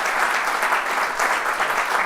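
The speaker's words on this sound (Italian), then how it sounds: "Lo accogliamo con un applauso" An audience gives a guest speaker, a TV presenter, a welcoming round of applause: continuous, close, fairly loud clapping with no voices over it.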